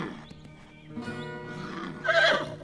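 A horse whinnies loudly near the end, a bright shrill neigh that follows quieter breathing and shuffling around a stable.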